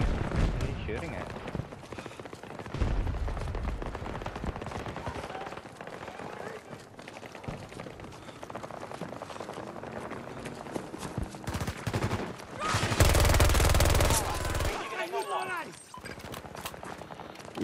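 Gunfire in the multiplayer shooter Battlefield 2042, fairly faint, with scattered shots and short bursts through most of the stretch and a louder burst of firing near the end, under ongoing talking.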